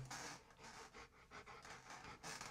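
A Rottweiler pants heavily up close, with quick, steady, rhythmic breaths that run through the whole clip and no talking.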